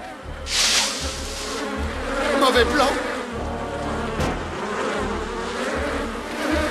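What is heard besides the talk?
buzzing mosquitoes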